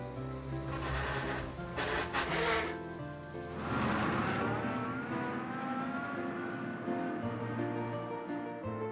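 A truck with a caravan just unhooked pulls away at a steady engine rumble that holds loud through the clip, with a brief burst of higher noise early on.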